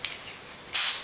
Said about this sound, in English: Give it a quick spray, but try and build it up with a few coats